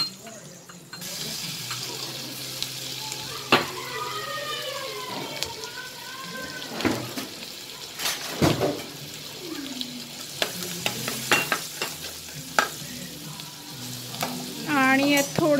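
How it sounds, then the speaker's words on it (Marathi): Turmeric, asafoetida and garlic frying in oil in a pan over low heat, a continuous close sizzle with stirring clatter and bursts of spattering; a person talks over it. "थोडी हळद, लगेच लसूण टाकून घेतोय"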